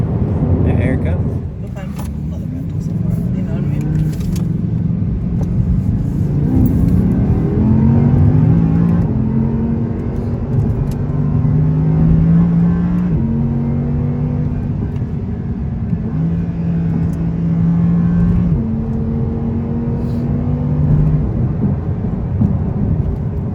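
Audi R8 RWS rear-wheel-drive sports car engine pulls through a steady drive, its tone rising and settling through several gear changes, close and fairly loud, with speech over it.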